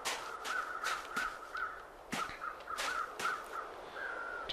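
Crows caw in the video game The Long Dark, with a run of repeated harsh calls in irregular bursts and short pauses between them, heard fairly clearly over a quiet background.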